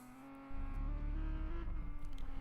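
Historic race cars starting at the Targa Florio road race, a deep engine rumble swelling up suddenly and holding steady, heard close from inside a car.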